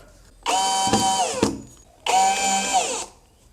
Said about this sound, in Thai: แล้วยิงสกรูมาเพื่อจะยึดกับตัวนี้ได้นะครับ